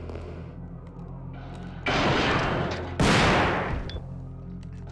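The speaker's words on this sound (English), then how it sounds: "I'm gonna bring the shotgun out." Two heavy shotgun blasts fired at hunters in Resident Evil 2 (1998), each a loud booming burst with a ringing tail, a second apart over a low background hum; a man briefly swears.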